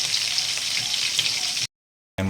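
Tinapa, smoked fish, frying in oil with a steady broadband sizzle close by, cutting off abruptly to silence and then resuming briefly.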